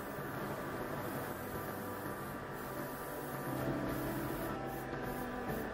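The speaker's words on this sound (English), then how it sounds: "we're going to spray some of the suspension parts in silver" Mr. Color silver lacquer spray painted onto suspension parts of a 1/24 Tamiya Skyline GT-R scale model chassis, an even, continuous hiss lasting several seconds with no talking.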